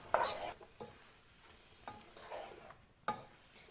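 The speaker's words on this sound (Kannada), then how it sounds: "ಇನ್ನು ನಾವು ಇದನ್ನು ಚೆನ್ನಾಗಿ ಮಿಕ್ಸ್ ಮಾಡುವ" Mushroom masala is stirred in a pan with a spatula in a home kitchen, giving a few quiet scraping strokes at irregular intervals over a faint, low sizzle.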